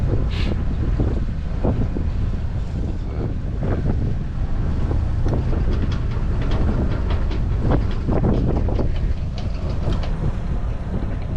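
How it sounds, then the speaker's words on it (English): Steady, blustery wind buffets the microphone aboard a sailing boat, with rumbling low gusts and scattered thumps and rattles over a constant roar. "to stop some of the noise of the wind"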